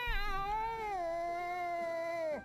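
A cat in the video game Bravely Second gives one drawn-out, whining meow lasting a couple of seconds. It is fairly clear and close, with no talking over it.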